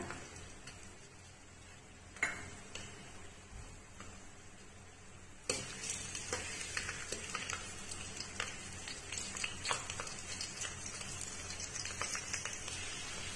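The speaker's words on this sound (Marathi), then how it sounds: "आता मी त्यात घालणार आहे 8 ते 10 लसणाच्या पाकळ्या चिरून घेतल्या त्या." Eight to ten chopped garlic cloves sauté in a large pot. A faint, steady frying hiss starts soft and grows fuller partway through, with light scattered crackles and no voices.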